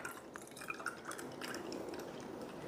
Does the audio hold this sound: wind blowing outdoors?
no